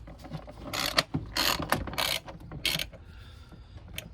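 A ratchet driver with a T25 bit backs out four screws during a Renault Clio 1.2 service, giving four short bursts of close, crisp ratcheting clicks with brief pauses between.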